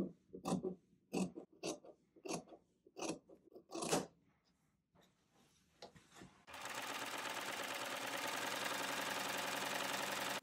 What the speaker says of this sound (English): I just cut and serged the edges of the sleeves.